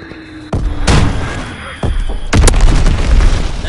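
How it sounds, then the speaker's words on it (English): A video game enemy bomb goes off in a round of 4v4 play, giving several heavy booming blasts over about four seconds. The explosions are loud and close, with a rumbling tail after each one. "Enemy bomb incoming! Get to cover!"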